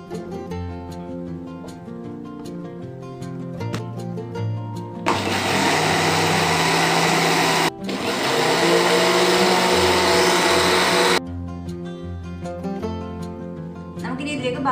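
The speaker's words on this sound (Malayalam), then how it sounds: "നമുക്കിനി ഇതിലേക്ക് ഈ എണ്ണയുടെ ഒരു പകുതി ഭാഗം ഒഴിച്ചു കൊടുത്ത് വീണ്ടും ഒന്ന് അടിച്ചെടുക്കാം." An electric mixer whips mayonnaise as oil is added, roaring loudly and steadily for about six seconds with one brief break, set between stretches of soft background music.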